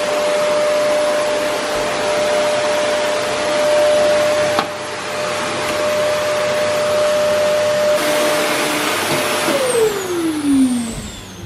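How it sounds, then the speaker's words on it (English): A household vacuum cleaner drones loud and close in a home, a steady whine with a brief dip midway, then the motor pitch swoops down as it powers off near the end. "So I'll have to give it a quick vacuum"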